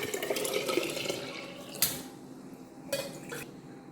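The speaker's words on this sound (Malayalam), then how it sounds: "ഉടച്ച തൈര് ഒരു മൺകലത്തിലേക്ക് ഒഴിക്കുക ആവശ്യത്തിന് വെള്ളം ഒഴിക്കുക" Water pours into a clay pot of mashed curd, splashing and trickling, with a few sharp clinks of a vessel against the pot's rim.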